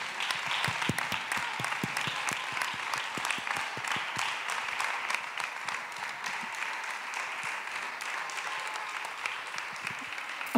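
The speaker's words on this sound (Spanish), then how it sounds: "m'agradaria que aplaudíssim al grup coordinador de l'inici." An audience at a community meeting bursts into sustained applause, dense clapping from many hands filling the room evenly for about ten seconds.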